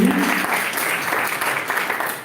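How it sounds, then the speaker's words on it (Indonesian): An audience at a literary criticism discussion applauds its three speakers with steady, moderately loud clapping that holds for a couple of seconds and stays even, a little voice audible at the start. "berikan tepuk tangan dulu untuk ketiga narasumber yang hari ini"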